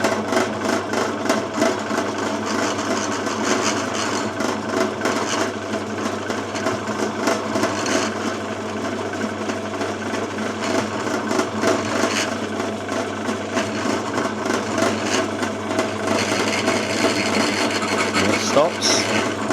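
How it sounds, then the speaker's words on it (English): Pillar drill boring into wood in a workshop, a steady grinding, rasping whir that runs continuously for about twenty seconds at moderate level with small fluctuations in load. "So now I'm going to demonstrate how to use the pillar drill."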